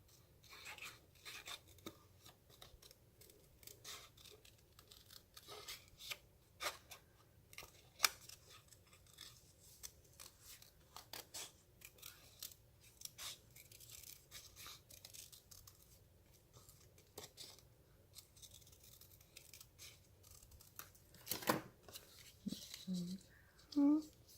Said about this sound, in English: I just wanted to kind of cut around it a little bit